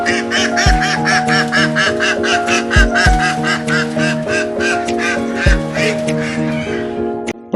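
Many ducks quacking busily together at a duck shop, loud and continuous, with steady background music.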